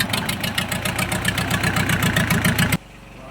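Broken exhaust pipe on a fishing boat engine at sea: a loud, fast, steady chugging with a hard rhythmic beat that suddenly stops near the end, leaving quiet background.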